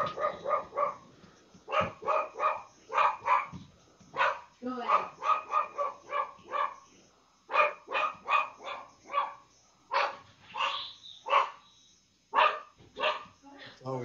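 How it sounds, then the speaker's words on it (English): A pet dog indoors barks repeatedly in rapid clusters of sharp barks separated by brief pauses, moderately close and persistent throughout. "I have to turn my dog off."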